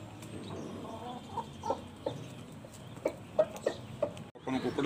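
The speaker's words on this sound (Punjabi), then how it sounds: "ਆਪਾਂ ਨੂੰ ਕੁੱਕੜ ਦਿੱਤਾ ਜੀ ਉਸਤਾਦ ਨੇ," An Asil rooster, a gift from its trainer, gives a few short clucks and soft calls at a steady, unhurried pace against a low background murmur, with a brief louder rustle near the end.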